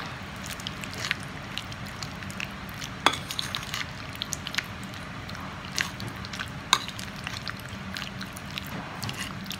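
Meat is mixed with thick soy sauce in a bowl as a marinade, producing soft wet squelches and occasional light clinks against the bowl. The sound is close and quiet, with no talking.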